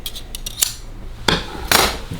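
Scissors snip through a cardboard toy box in a few sharp, close cuts, with soft rustles of packaging between them.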